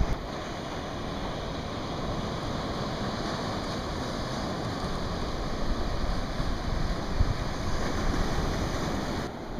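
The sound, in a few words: small ocean waves coming in at the beach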